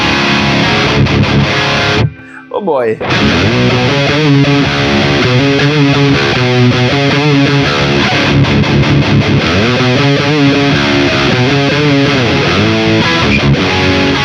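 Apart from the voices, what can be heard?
electric guitar through high-gain amp preset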